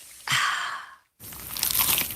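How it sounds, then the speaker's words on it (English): A crunchy slice of pizza bitten into, giving two crisp, crackling crunches separated by a short silence, close and fairly loud with no voices. "Is that the sound of an ooey gooey cheesy crunchy slice of P-I-Z-Z-A?"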